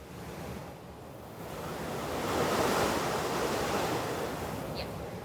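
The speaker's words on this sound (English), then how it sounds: "we are just sitting by the river." River flowing through Geibikei Gorge, a broad steady rushing wash of water that swells slightly midway, heard close and continuous with no talking.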